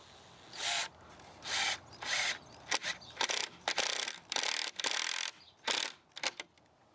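A power drill drives screws into a wooden garden climbing trellis frame built for pumpkins, heard close up as a series of short whirring bursts of varying length with brief pauses between them and no talk.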